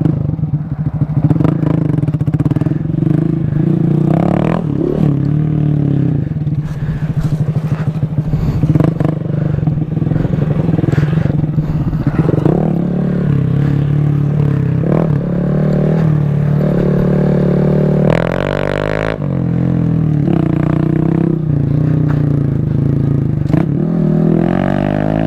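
A Honda Grom motorcycle rides a dirt track, its engine droning steadily near the mic with throttle changes and revs, plus occasional clatter and scraping from the ground, all without speech.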